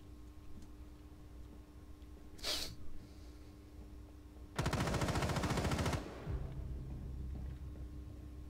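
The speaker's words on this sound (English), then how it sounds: "He shot me through the metal." Gunfire in the Rainbow Six Siege video game: a short sharp burst, then a longer rapid machine-gun stream of evenly spaced shots, loud and close, over a low electrical hum.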